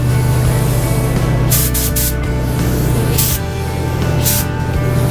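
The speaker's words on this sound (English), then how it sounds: "I'm not spraying a lot." Short hissing bursts of spray paint from a can onto a rocking horse, a few quick puffs and then longer ones, over a steady low hum.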